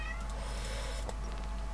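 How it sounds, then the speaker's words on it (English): A house cat gives a short meow over a steady low electrical hum, with no other sounds around it. "What do you want, Cat?"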